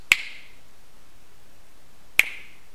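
Two sharp, isolated finger snaps separated by about two seconds of near silence, each crisp and close.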